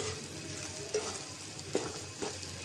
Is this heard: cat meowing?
no